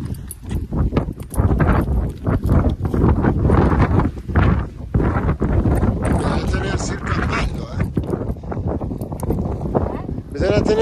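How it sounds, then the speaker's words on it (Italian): Strong wind buffets the microphone in loud, continuous gusts at the Capo Spina semaphore on the Sardinian coast, with people talking throughout. "c'è un vento pazzesco, infatti si sentirà anche"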